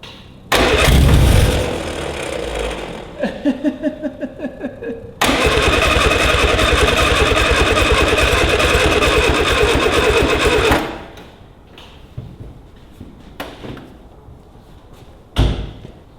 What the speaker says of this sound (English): I think that's just the exhaust. Bit of blowing exhaust.